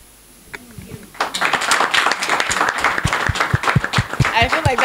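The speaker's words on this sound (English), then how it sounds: "I feel like that deserves a bigger applause" Audience applause at an in-person startup event, starting after a brief quiet moment and building into sharp, irregular claps from a modest crowd, fairly close and steady to the end.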